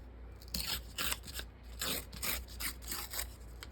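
Paper signature pages for a handmade journal being torn by hand, a run of several short, rough ripping strokes in an irregular rhythm, close and fairly quiet, with no talking.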